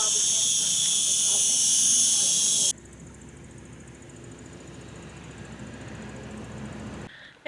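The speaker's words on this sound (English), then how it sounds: "Would you hear those cicadas?" Loud, steady high-pitched cicada buzzing fills the first few seconds, then cuts off abruptly, leaving quieter outdoor ambience with some low rumble, in southern Spain.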